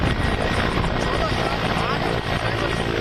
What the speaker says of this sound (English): carrying out special operations drills using Apache attack helicopters, Chinook transport helicopters and Mi-17s